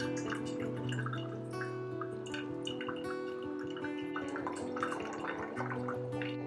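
Thick vegan gravy being pressed through a sieve with a spoon, giving soft wet squelches, drips and scraping clinks in an irregular rhythm, close and quiet.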